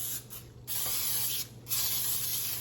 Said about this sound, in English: I'm going to go ahead and I'm going to spray this